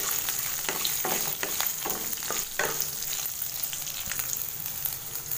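Garlic, ginger, green chilies and curry leaves frying in a pan, with a continuous close sizzle and a few spatula scrapes near the start, no voices.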